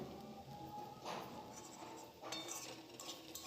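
A metal spatula cuts through boiled taro in a pan while making a vegetarian taro dish, giving soft scraping, clinking strokes over a steady kitchen hiss, with two louder bursts of contact.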